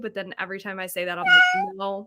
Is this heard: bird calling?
no